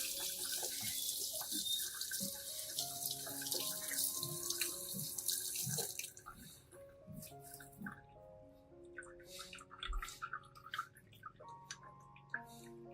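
Tap water runs and splashes over a peace lily's roots at a sink, a steady broadband rush for the first half, then softer drips and trickles with faint clinks while the flow eases.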